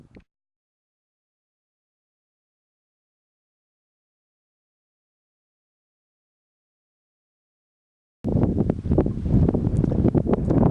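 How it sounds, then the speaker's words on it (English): Wind at Rockfleet Castle, an Irish stone tower house, blowing hard and steady into the microphone near the end after a long silence, loud and rumbling. "it's another windy day here"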